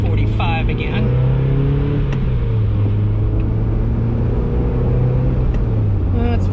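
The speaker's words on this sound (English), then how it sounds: "There's 5th gear, so there's less engine noise." Car engine cruising at about 45 in fifth gear, picked up by GoPro stereo microphones: a steady low drone with faint rumble, continuous and fairly loud throughout, no voices.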